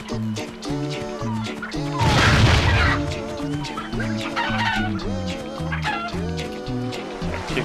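Chickens in the video game Crash Twinsanity cluck repeatedly over game music, with a loud crash-like burst partway through.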